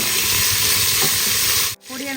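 Salted onions with fennel seeds, green chillies and coriander leaves sautéing for fish curry, sizzling loudly and steadily close up, with stirring scrapes, then a sudden cut before softer sizzling returns.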